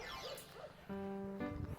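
A dog barks and whimpers at close range, several short yips and whines followed by a sustained bark, with a person heard nearby outdoors.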